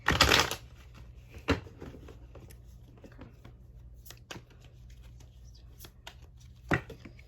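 Playing cards are shuffled close by in a burst of quick riffling, followed by scattered soft taps and another short shuffle near the end.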